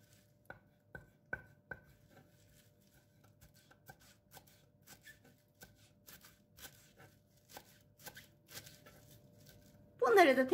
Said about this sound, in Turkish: Bir tutam maydanozu da ince ince doğrayalım.